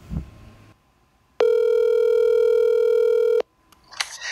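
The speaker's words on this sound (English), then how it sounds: "Let's take to the phone lines, Pharaoh." Telephone call sound effect in a wrestling video game show segment: a steady electronic tone holds for about two seconds, loud and alone, followed by a short burst of dialing-like beeps.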